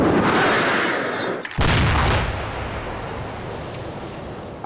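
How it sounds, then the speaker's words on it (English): Explosions rip through a building during an action film stunt: a loud roaring blast, a brief gap, then a second sharp boom that decays into a lingering rumble. "we're gonna explode that building."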